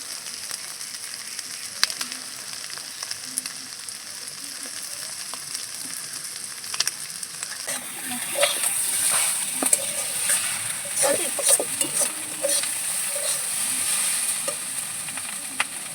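Potatoes fry in a pan with a steady sizzle while being stirred, giving occasional scraping clicks. The sizzle grows louder and busier in the second half, and a faint voice may be present underneath.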